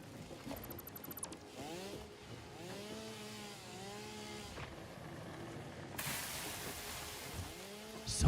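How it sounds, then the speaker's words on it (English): Chainsaw felling trees in the factory-building video game Satisfactory, a buzzing motor with repeated rising and falling revving sweeps, a louder surge of broadband noise near the end as trees come down. "Can you bring your chainsaw to the back of the factory over here, over by these copper nodes? Perfect. Can you cut these trees down?"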